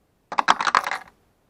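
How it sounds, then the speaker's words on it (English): A few dice clatter and tumble across a surface in one quick roll, a short burst of close, bright clicks that settles within about a second. "Now to roll for the genre."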